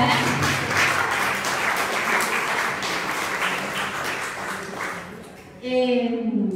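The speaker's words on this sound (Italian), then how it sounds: "fate un applauso" Audience applause at the Umbria Art 2018 presentation, a steady wash of clapping that fades gradually before a voice begins speaking near the end.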